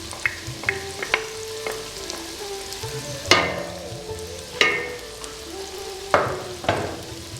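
A paste of ground cashews and melon seeds frying in a pan with fried onion paste for mutton korma, steady sizzle punctuated by several loud sharp spatula knocks and scrapes against the pan, no talk.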